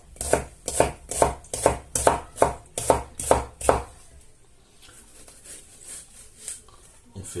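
A knife chops a courgette on a board with about nine steady, close, evenly spaced cuts, then stops, leaving quiet room sound.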